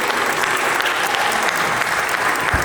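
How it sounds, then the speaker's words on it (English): An audience at a science festival, clapping for droid builders, gives a loud, dense round of applause with some crowd noise, steady and close for the whole stretch. "deserve a round of applause"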